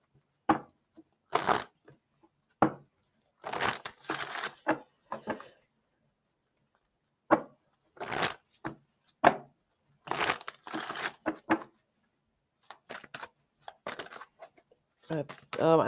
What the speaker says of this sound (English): I'm going to see if this card comes out once I finish shuffling.